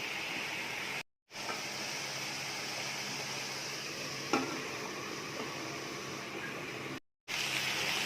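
Chopped banana flower with turmeric being mixed in a pan for poriyal, a steady soft sizzle and faint stirring throughout, with one sharp spoon clink near the middle and brief cut-outs at each end.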